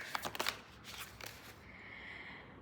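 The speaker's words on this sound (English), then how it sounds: "Let's go ahead and pull the cards for you all." A deck of tarot cards is shuffled by hand in a few quick riffling bursts, close and fairly quiet, then fades to a faint steady room hiss.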